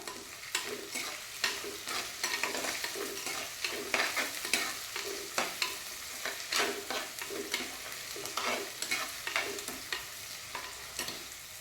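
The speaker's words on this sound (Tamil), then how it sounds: "நல்லா ஆனியன் நல்லா வதங்கணும்" Onions with salt and a broken dried red chili sauté in a pan. A close, continuous sizzle runs under rhythmic spatula scrapes and stirring strokes throughout.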